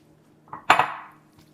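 Noodles for a tuna noodle casserole land in a dish with a single soft clatter and a brief scrape, close by, then quiet.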